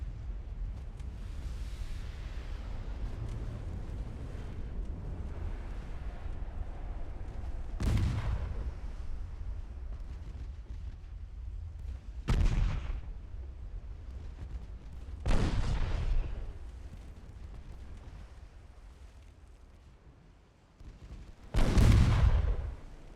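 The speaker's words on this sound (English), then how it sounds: "Yeah, torpedo detonation." Deep booms of naval gunfire and a torpedo detonation in the warship game Ultimate Admiral Dreadnoughts, four heavy blasts spaced several seconds apart over a low rumbling background.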